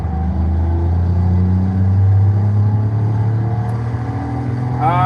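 A Toyota Camry TRD engine in Forza Horizon 5 drones with a steady, loud low rumble that swells slightly midway, then rises into a quick rev near the end, with no talking over it.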